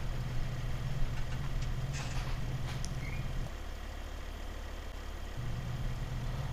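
A tractor engine in Farm Simulator 17 idles and churns steadily during field cultivation, a continuous mid-pitched rumble with a brief dip in tone partway through before settling back.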